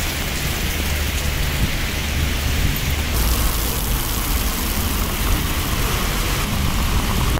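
Steady rain falling in Vladivostok, a dense, even hiss of drops on surfaces that stays constant and fairly close for the whole stretch, with no voices.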